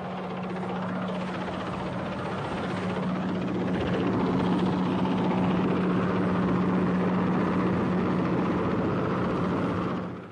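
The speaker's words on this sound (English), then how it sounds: "Helicopters worked ceaselessly, ferrying artillery, rations, and above all, ammunition." Military helicopters fly steadily with a continuous rotor thrum and engine whine, a dense broad roar that swells slightly louder midway, with no voices.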